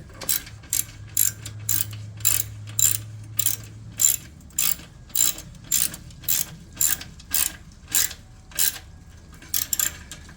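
A ratchet wrench clicks in quick, even bursts while tightening bolts on a Vance and Hines slip-on exhaust on a 2013 Super Glide motorcycle. About sixteen sharp metallic ratcheting pulses come close up, with no talking.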